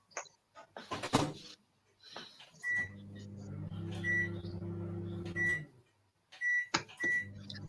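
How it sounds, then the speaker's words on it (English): Microwave oven running in a home kitchen while brownies are baked, a low steady hum broken by beeps and door clunks, with people talking in between. "I'm putting mine in microwave."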